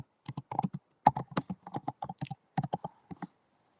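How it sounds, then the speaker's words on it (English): Fast bursts of computer keyboard typing, close and crisp, with irregular clusters of keystrokes and short pauses, typed into a livestream chat; no voices. "as I'm about to type in the chat room"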